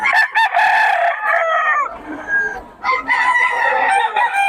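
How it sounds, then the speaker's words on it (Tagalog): A rooster at a gamefowl sale crows twice, loud and close, each long call rising then trailing off, with a brief lull between them. "Ulit yung manok."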